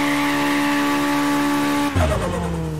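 A video game car holds a steady revving engine tone, then breaks into a sudden loud tire squeal and skid as it launches into a burnout.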